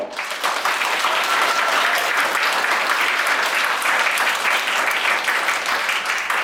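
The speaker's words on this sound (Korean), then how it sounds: "모두 준비가 되셨다면 힘찬 박수와 함께 시작해보려고 하는데요. 힘찬 박수 주세요." An indoor audience at a winter camp concert breaks into loud, dense applause that holds steady and unbroken for several seconds.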